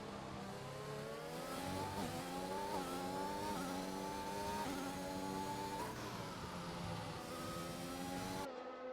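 Race cars in a racing video game sweep through a track's middle sector, their engines rising and falling in steady overlapping whines with repeated shifts, loud and continuous for the whole stretch with no talk.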